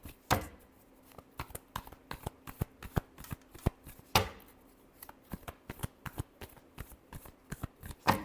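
Tarot cards shuffled by hand in a quiet room, a rapid run of crisp riffling snaps and flutters in short bursts, close and fairly soft, with a faint steady hum underneath.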